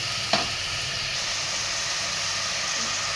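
Finely cubed zucchini and other vegetables sauté in a pan with a steady, close sizzling hiss, opened by a brief clatter of stirring.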